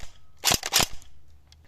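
A J.G LK58 airsoft gun fires two or three quick, sharp, close shots in a tight burst, with a short fading tail after them.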